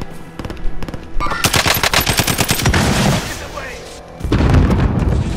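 Rapid machine-gun bursts and gunshots in a Warzone Zombies match, loud and close, with a dense volley in the middle and heavy booms near the end, while players talk over the fire.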